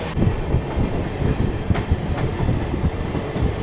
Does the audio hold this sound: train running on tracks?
yes